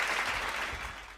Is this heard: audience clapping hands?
yes